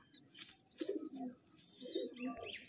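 Madrasi pigeons, an old 15-year lineage kept in a loft, coo softly in low murmuring bursts, two clear rounds of cooing over faint background chatter and bird noise.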